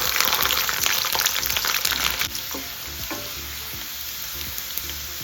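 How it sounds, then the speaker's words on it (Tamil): Fenugreek seeds and garlic fry in hot oil in a kadai, giving a loud, bright sizzle that eases down after a couple of seconds into softer crackling and spattering with occasional stirring clicks. "வெந்தயம் பொரியும் போதே வெள்ளைப்பூண்டு சேர்த்துக்கலாம்."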